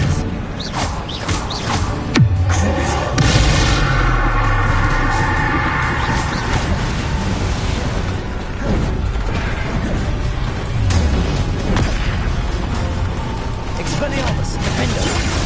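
Bombarda spell explosions and other spell impacts in the video game Hogwarts Legacy on PS5, a sharp crash near the start followed by a dense run of smashing bursts, whooshes and rumbles, with spoken spell incantations over the top.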